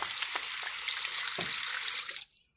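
Water runs from a sink faucet in a steady, hissing close-up stream, getting a little louder toward the end before it cuts off abruptly.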